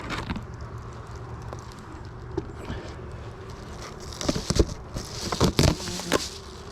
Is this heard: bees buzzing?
yes